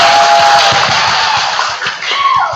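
Audience applause and cheering at a classroom-style quiz event, a loud, continuous crowd roar with shouting voices and clapping that fills the whole moment, close and energetic throughout.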